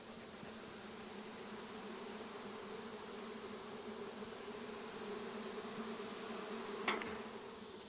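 Honeybees swarm around an opened beehive while its frames are being worked, a steady dense droning hum, close and even throughout, with one brief knock near the end and no voices.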